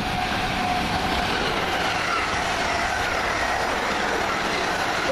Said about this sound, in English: 450-004. Going around the corner, 1 Whiskey 21 from London Waterloo to Weymouth.